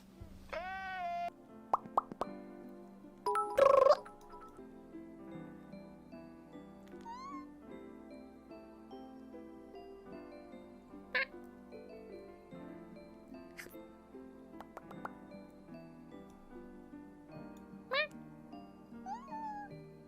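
A person imitates a cat, giving a few short meow-like vocal sounds amid quiet, sparse background noises and small clicks.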